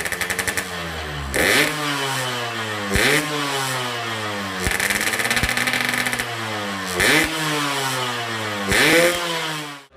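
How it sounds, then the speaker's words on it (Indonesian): A Yamaha RX King two-stroke motorcycle with an expansion chamber exhaust revs repeatedly, rising and falling in sharp, raspy bursts with a buzzy, crackling tone, close and loud. "Tidak ada motor di Indonesia yang memiliki suara secempreng RX King yang sudah di chamber."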